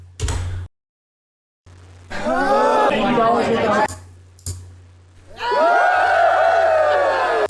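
Crowd chatter from a sound effects library plays in short bursts separated by gaps, a murmuring mass of voices with mechanical clunks between snippets.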